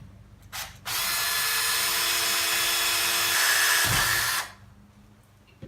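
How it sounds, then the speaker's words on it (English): A small power drill bores pilot holes into a plastic turtle shell, a loud steady whir lasting several seconds that cuts off abruptly, with a short burst just before it. "Drill 2 pilot holes where you've made your marks, being careful to hold the shell firmly"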